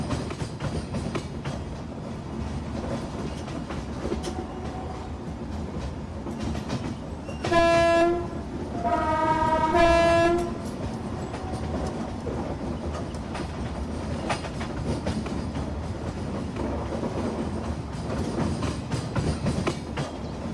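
An Indian express train in Train Simulator rolls along the rails with a steady low rumble, interrupted by two loud horn blasts in quick succession partway through, then continues running quietly.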